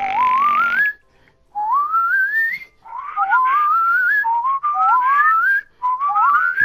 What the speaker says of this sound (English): You guys cannot whistle!